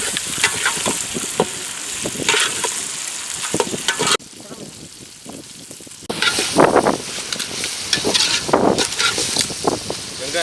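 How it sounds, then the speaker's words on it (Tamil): Onions sautéing in a pan over a village cooking fire, with a steady frying sizzle and repeated scraping stirs, loud and close, briefly quieter in the middle. "வெங்காயம் நல்லா வதக்கிட்டேன்."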